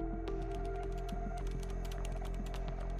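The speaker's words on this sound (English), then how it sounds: "Then I'll type in what I want it to say." Rapid keystrokes on a computer keyboard as text is entered, a steady run of light, close clicks over a constant low hum, with no voices.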